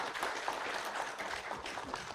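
Broad, steady audience applause fills a conference hall at a science pitch event, many hands clapping together at moderate volume for about two seconds with no talk.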